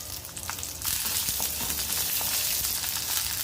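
Shallots and dried red chillies sizzle steadily in a hot pan for ellu chutney, a soft hiss that jumps louder about a second in as the shallots go into the oil, then holds as a dense, close frying crackle.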